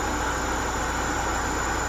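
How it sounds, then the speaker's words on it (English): A supercharged M44 engine in a BMW E36 318ti idles smoothly and evenly at close range, a constant low hum with a faint high whine and no voices. "Engine idles really nice and smooth."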